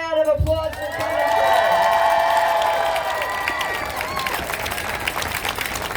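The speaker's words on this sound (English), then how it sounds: "Give her a round of applause for coming" An audience at a political rally applauds and cheers, a dense wash of clapping that swells and then eases under tonal music, with some voices mixed in.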